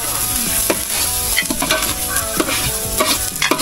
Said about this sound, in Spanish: Y ahora mezclar.